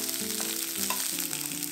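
Chopped onions and minced garlic sauté in a spoonful of cooking oil over medium heat, giving a steady, even sizzle that runs throughout beneath tonal background music.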